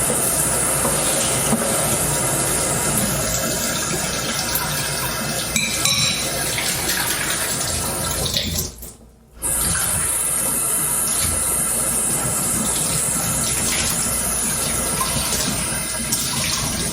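Water runs loudly and continuously from a tap while something is rinsed out, a close rushing hiss that briefly cuts off near the middle before flowing again.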